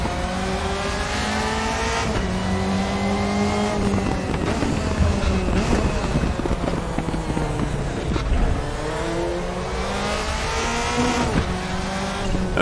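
A DTM race car from 2003–2005 in the RaceRoom racing game fires up and revs, its loud engine rising and falling in steady pitch sweeps with throttle blips across the stretch.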